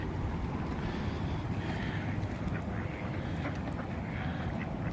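Ducks and geese crowding in while being fed near water, with faint quacks scattered through a steady broadband wash of wind or water noise, no clear single call standing out.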